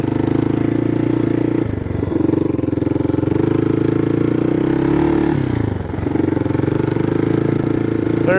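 A three-wheeler motorcycle engine runs loud and steady in gear, its low throbbing drone dipping briefly twice as the throttle eases, with a rattling clatter over the top.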